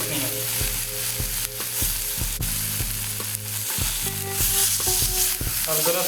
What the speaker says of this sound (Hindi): बार बार पलटने का एक ही रीज़न है ताकि चिकन जो है वो धीरे धीरे करके दोनों साइड से इक्वली पके।